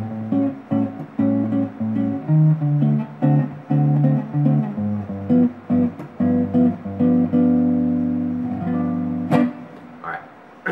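Jazz guitar strums a 1-6-2-5 chord progression in C, with clean chords struck rhythmically and ringing close and moderately loud, and no talk over the playing.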